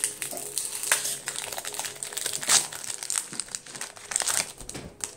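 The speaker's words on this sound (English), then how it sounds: "So I'm gonna open these quickly." Foil wrappers of Pokemon Evolutions booster packs crinkle and crunch in quick, continuous handling up close, with sharp rustling bursts as packs are torn open and cards are pulled out.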